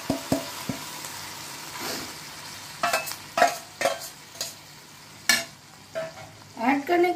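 Boiled chana dal tipped into a pan of frying spices and stirred for a paratha filling, with scattered scraping strokes and soft sizzling bursts, close and fairly quiet, without talk.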